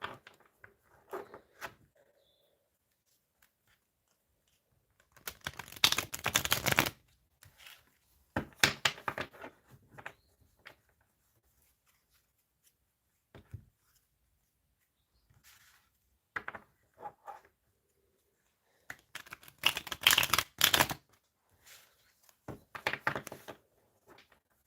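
Oracle cards from a What Lies Beneath deck are shuffled in several separate bursts of quick papery riffling and slapping, close by and fairly loud, with quiet pauses between them.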